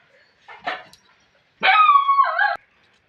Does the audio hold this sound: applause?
no